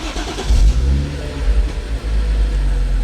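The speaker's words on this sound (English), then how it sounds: "And I went all the way to startup of the car." A BMW F3X series car engine cranks and catches, then revs up loudly and settles into a close, steady idle rumble, with no talking.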